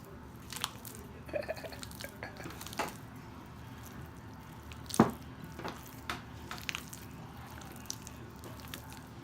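Soft, wet squishing and squelching sounds come in irregular bursts as a cheese ball of shredded Swiss and goat cheese is mixed in a bowl, close up and fairly quiet, with no talking.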